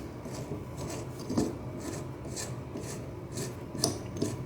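Wiping excess silicone sealant from around a newly installed drain gives a steady, close, soft rasping rub with a few slightly louder strokes, heard alone.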